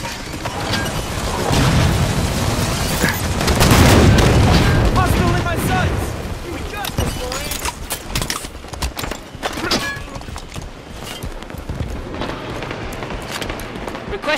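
Gunfire and heavy booms in the Halo 5 Warzone video game, a dense, loud barrage that swells and then thins out, with voices talking over the fighting.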